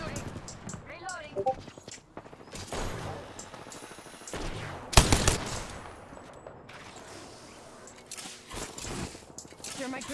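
Gunfire in an Apex Legends Arenas match: scattered bursts of rifle shots, one loud burst standing out near the middle, heard under steady in-game callouts and voice chat.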